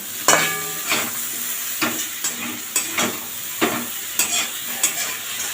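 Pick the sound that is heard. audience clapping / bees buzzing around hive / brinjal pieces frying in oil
brinjal pieces frying in oil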